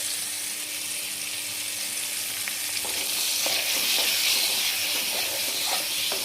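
Spices sizzle and fry in a pan for mango chutney, a steady loud hiss with light scraping from stirring growing busier midway, no voices.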